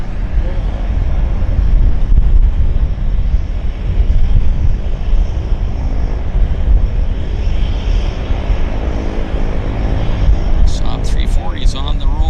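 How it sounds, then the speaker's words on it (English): A Saab 340 turboprop on its takeoff roll gives off a loud, sustained low engine roar that holds through the clip, and brief chirps come near the end. "Saab 340 is on the roll."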